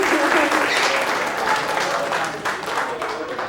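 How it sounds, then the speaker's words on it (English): A small audience applauds steadily for a few seconds during a wildlife presentation, dense broadband clapping that stays loud before tapering slightly near the end, with a faint voice underneath. "Everybody give her a round of applause"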